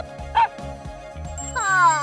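A cartoon puppy gives a short, high yip amid light jingling musical tones, followed by a rising squeaky whine-like sound, all brief and close.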